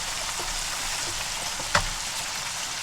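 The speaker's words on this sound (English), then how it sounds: "I'm fixing to drop my basket down in and let the frying begin." Chicken fries in a fry basket, a steady sizzle hissing throughout at low volume, with a single brief clack partway through.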